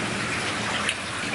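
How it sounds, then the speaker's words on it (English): Rain falls steadily outside, a soft even wash of drops heard alone at moderate loudness without voices. "she loves watching the rain"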